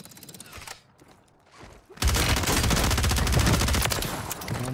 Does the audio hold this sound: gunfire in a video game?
yes